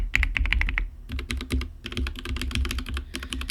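Clacking keystrokes on a Dark Project KD87A mechanical keyboard with Gateron Teal switches, heard as rapid bursts of crisp, close typing with short pauses between runs and no talking.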